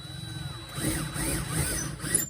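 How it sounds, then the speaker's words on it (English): A power drill whirs close by, its pitch rising and falling in repeated surges as it bores through foam on a model railway layout. "And that's a sharp drill, so that's easy."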